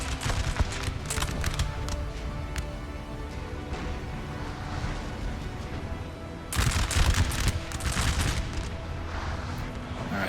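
Musket volleys crackle across a Waterloo battle in the Total War: Napoleon video game, with scattered shots and rolling bursts throughout and a louder, denser fusillade late on. Faint hoofbeats and distant booms mix into the din.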